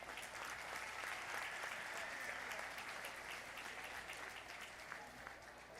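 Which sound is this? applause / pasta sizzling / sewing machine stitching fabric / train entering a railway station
applause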